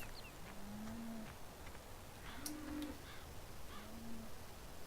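Three low cow moos from the video game Farming Simulator 17, spaced a second or two apart, sound faintly over a quiet background hiss with no talking.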